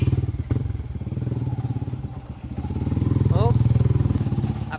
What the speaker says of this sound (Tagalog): Ang mga motor.